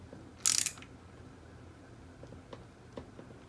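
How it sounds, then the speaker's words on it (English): Small ratchet tightening a bolt on a Honda 400ex engine: one sharp burst of quick clicks up close, followed by a few faint ticks in a quiet room. "I'm just going to use a little ratchet"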